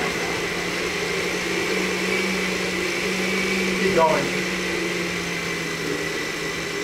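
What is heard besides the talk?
blender running, blending comfrey leaves for poultice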